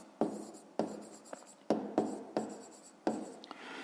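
A pen scratches across paper while math answers are written out, a series of short strokes with sharp starts and fading tails, close and clear, about nine strokes in an irregular rhythm.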